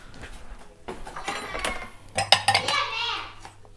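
Ceramic dishes, drinking glasses and spoons clatter as they are loaded into a home dishwasher, with scattered clinks and a sharp cluster of close knocks and rattles, while a voice is heard nearby.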